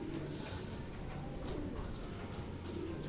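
Soft, low cooing of racing pigeons at a loft repeats several times at a quiet level, a gentle outdoor hum underneath.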